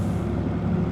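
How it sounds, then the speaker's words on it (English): Locomotive air brakes release with a steady, continuous hiss and a low rumble beneath it, sustained and even, in the train simulation game Derail Valley. "It's taken quite a while to release those brakes now."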